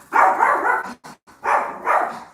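A dog barks loudly and close in two rough bursts with a brief pause between them, set off by a knock at the door of a home.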